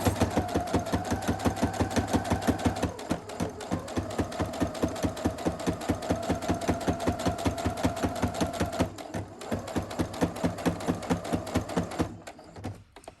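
A sewing machine stitches down the side of a fabric mask with a rapid, even mechanical chatter that pauses briefly near the end before restarting, close and clear, with no talking.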